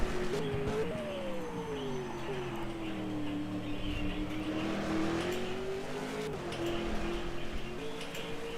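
V8 race cars on hot laps at Winton raceway, a single engine note rising and falling through gear changes as a car circuits at a distance, steady and moderately faint.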